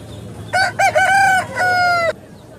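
A single country rooster at a poultry market in Anantapur crows loudly and close by, a long drawn-out call in several stretched segments lasting over a second and a half.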